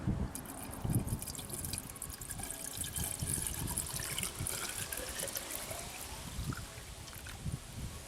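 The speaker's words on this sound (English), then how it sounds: "all you do is dump this in, like so, and then fill the rest up with water" Water pours and trickles steadily into a reservoir on a Vauxhall Astra 1.7 CDTI during a service, with gurgling splashes and drips, close by and without speech.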